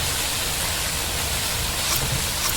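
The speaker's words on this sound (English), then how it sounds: "Frying it seems to release a lot of water." Tomatoes frying in a pan in the cooking game Venba, a dense steady hiss and sizzle filling the whole moment at a constant level with no voices.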